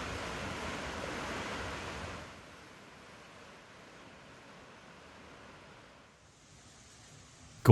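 Steady broadband rushing of a tall Indiana waterfall after overnight rain, louder for the first two seconds then settling into a softer continuous roar, with a brief bump at the end.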